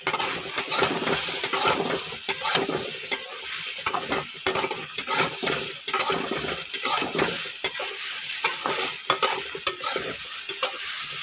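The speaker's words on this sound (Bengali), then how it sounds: "সয়াবিনটা ভালো করে একটু নেড়ে চেড়ে নিলাম সবজির সাথে" Soybean chunks and vegetables stirred in a hot frying pan, a steady loud sizzle with repeated scraping and clinking of the spoon against the pan throughout, close and without talk.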